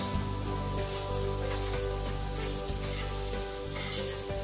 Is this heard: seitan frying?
yes